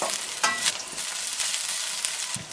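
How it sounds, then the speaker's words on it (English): Onions and chillies for a tomato fish curry sizzle loudly in a frying pan as they are stirred, a dense continuous hiss with a few brief scrapes, no voices. "Give it a stir"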